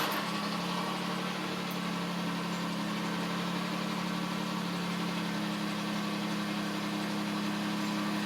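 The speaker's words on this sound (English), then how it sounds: "I'll crank up the van so that y'all can see this" A van engine running at a steady idle just after being started, a continuous close hum with a firm low drone and even mechanical rumble, unchanging throughout with no voices.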